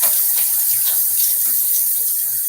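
Water runs steadily from a sink tap for rinsing a razor during a wet shave, a loud, close, continuous hiss with no talking.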